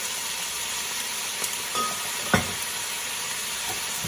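Noodles frying in a hot pan as light soy sauce goes in for a low-carb shrimp and mushroom lo mein, giving a steady close hiss with a few soft clinks and a brief louder splash partway through.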